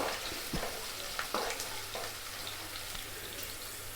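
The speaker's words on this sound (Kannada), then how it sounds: "ಉಳ್ಳಾಗಡ್ಡಿ ಭಾಳ ಅಂದ್ರೆ ಭಾಳ ಕಪ್ಪಾಗುವಂಗೆ ಕರ್ಕೋದಿಲ್ಲ ಅವನ್ನ ಲೈಟಾಗಿ ಸ್ವಲ್ಪ ಲೈಟಾಗಿ ಒಂದು ಕರ್ಕೊಂಡ್ರೆ ಸಾಕು" Onions frying lightly in a pan for a chicken snack, a steady soft sizzle with a few brief clinks and scrapes of stirring, fairly quiet and close with no talking.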